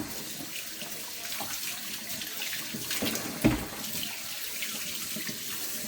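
Steady tap water runs into a kitchen sink while chicken wings soaked in vinegar and water are rinsed, a continuous close splashing hiss with a brief louder splash midway.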